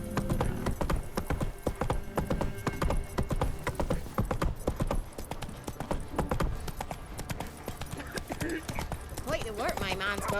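Roach the horse galloping in The Witcher 3: Wild Hunt, a rapid, steady clip-clop of hooves pounding throughout, with a brief whinny near the end and voices talking underneath.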